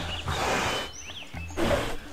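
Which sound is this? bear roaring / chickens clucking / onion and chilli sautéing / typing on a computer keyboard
bear roaring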